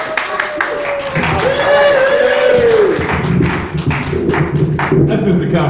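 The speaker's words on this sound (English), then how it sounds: "A great big round of applause for helping me out." An audience applauds the helpers of an illusionist at a live magic show on the Duke and Kat show. The steady crowd clapping runs throughout the clip, mixed with a voice speaking over it.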